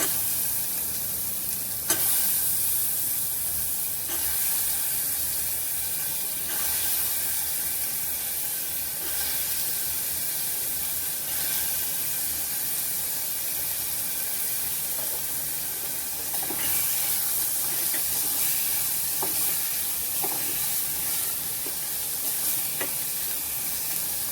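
Black-eyed peas (chavli) with a bay leaf sizzling in a hot pan for a Maharashtrian usal: a steady, loud frying hiss throughout, broken by occasional soft stirring scrapes, close up and without talk.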